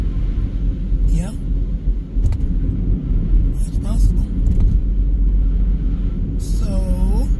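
Car driving on a road during a snowstorm in Rochester, NY, a constant low rumble of engine and tires close up, with a few brief chirps and squeaks scattered over it.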